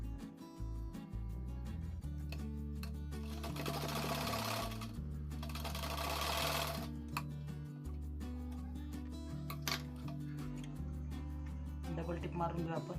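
A sewing machine stitches the legs of a newborn baby garment in a steady rhythmic whir with brief pauses and restarts, close and continuous, while a voice talks over it.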